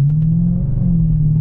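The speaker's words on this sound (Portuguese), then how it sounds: "é um ronco de muscle car, mas tem aquela performance AMG" Mercedes-Benz C63 AMG sedan with a 6.2 V8 in Stage 2 tune gives a steady, loud low rumble from inside the car, holding a deep drone with a slight swell and no voices.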